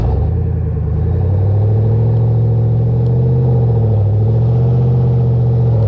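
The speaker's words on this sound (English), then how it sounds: "It sounds like an aftermarket exhaust. Not one that's crazy loud or anything, it just sounds really, really good." A 6.2-litre Chevy Silverado ZR2 pickup with an inexpensive aftermarket exhaust revs steadily, a deep, loud, continuous engine rumble that climbs and holds a little past the first second, then dips briefly around four seconds before settling again, with no talk over it.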